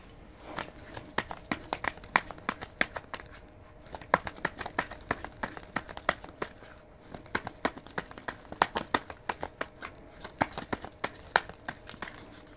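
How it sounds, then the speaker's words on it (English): Tarot or oracle cards being shuffled by hand, a close series of quick crisp riffling snaps and rustles that repeat steadily throughout. "I'm gonna shuffle off camera."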